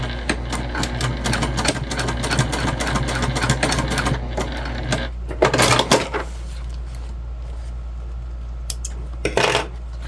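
A sewing machine basting webbing onto a clutch bag, running in fast rapid stitching bursts with clicks and rattles, pausing briefly and restarting near the end over a steady low hum.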